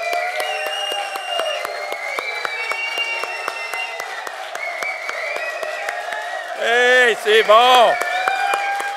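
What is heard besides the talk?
standing ovation, applause for the women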